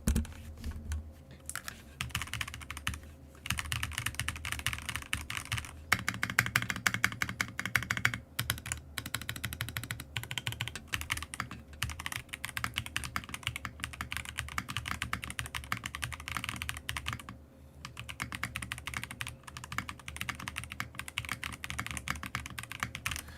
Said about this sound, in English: Let me do a typing test.